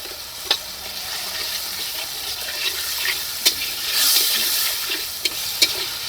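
Water is poured into a pan of fried spices with sour yogurt, salt and turmeric for a vegetarian dhokar dalna, giving a hissing sizzle and bubbling wash with a few sharp clinks of utensil against pan.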